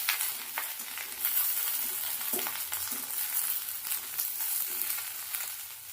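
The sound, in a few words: frying and stirring pointed gourd (potol) on low heat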